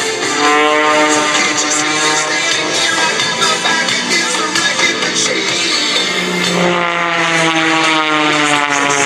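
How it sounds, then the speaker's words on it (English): An Edge 540 aerobatic propeller plane roars loudly overhead at an airshow, its engine pitch sweeping up and down as it maneuvers, with a shift in tone partway through. "flying this beautiful aerobatic airplane"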